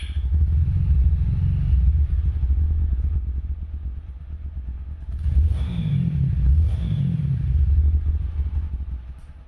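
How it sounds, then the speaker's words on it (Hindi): TVS Apache RTR 160 4V motorcycle exhaust, a deep, bassy rumble heard up close with a steady throb that swells into two short revs midway before settling back to idle. "अपाची की एग्जॉस्ट साउंड सबसे अलग और सबसे बढ़िया लगती है मुझे, क्योंकि थोड़ी सी बेसी साउंड है इसकी।"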